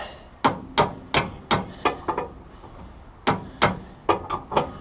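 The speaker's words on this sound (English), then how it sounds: "I'm going to grab my hammer here, and we're going to see how close we are to getting this guy right" Hammer strikes on the front steering linkage of a 1972 Oldsmobile Cutlass, a series of about eleven sharp metallic blows in uneven bursts, loud and close, with no talking.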